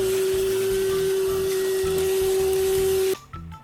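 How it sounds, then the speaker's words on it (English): A vacuum cleaner runs steadily and loudly with a constant whine while cleaning around a bathtub drain, then cuts off abruptly near the end, leaving a few faint knocks. "Then I made some vacuuming, little bit clean up here"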